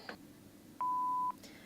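After a phone call is cut off, a single steady electronic tone sounds on the line for about half a second, clear and isolated against a faint hum.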